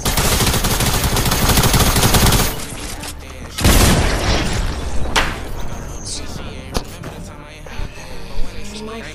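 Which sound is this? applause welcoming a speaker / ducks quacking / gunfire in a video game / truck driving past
gunfire in a video game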